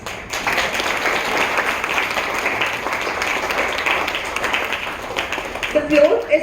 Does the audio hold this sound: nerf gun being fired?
no